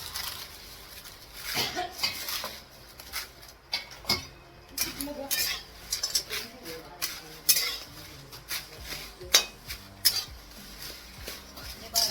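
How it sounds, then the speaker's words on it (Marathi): Bay leaves are roasted in a pan for a Sangli-style onion garlic chutney, with irregular scraping and tapping of a stirring spoon over a faint background sizzle, close up and moderately loud. "आपण तमालपत्री छान अशी परतून घ्या"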